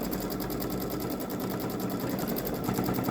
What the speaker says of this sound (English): I'm just holding up the quilt while it does the embroidery.